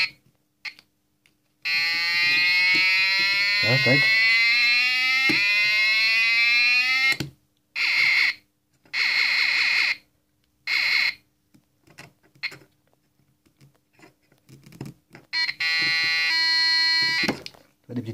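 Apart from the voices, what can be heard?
electronic kit producing small siren sounds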